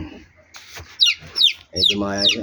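A pigeon chick in a coop gives several high, thin rising squeaks in quick succession, close and fairly loud, with someone talking over them.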